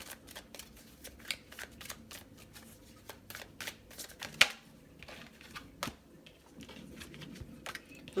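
A deck of tarot cards is shuffled by hand in quiet, close-up riffles and soft slaps, a steady run of crisp card flutters with a few sharper snaps.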